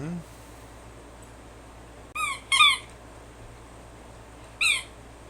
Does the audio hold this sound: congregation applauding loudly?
no